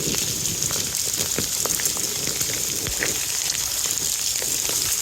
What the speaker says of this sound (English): All this hail.